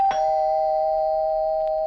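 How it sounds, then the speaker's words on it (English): A home doorbell gives one clear electronic chime that rings out and sustains, close and alone in a quiet room. "my doorbell rang."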